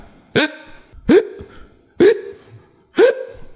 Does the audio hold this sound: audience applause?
no